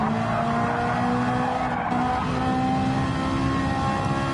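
A Gr-4 race car in a racing video game drives at speed around Brands Hatch, a loud steady engine drone with tire squeal, continuous and close throughout.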